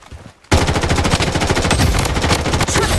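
Rapid automatic gunfire from the Blood Strike shooter game, a loud continuous burst of closely spaced shots running almost the whole clip after a brief quiet start, with no talk over it.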